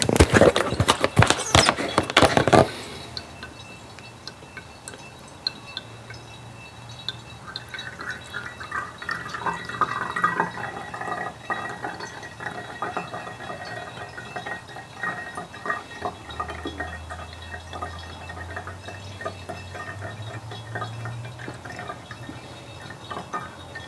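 Vanilla and marshmallow vodka drips steadily through a filter, a soft continuous trickle after a brief burst of louder clattering at the start, with light intermittent taps throughout.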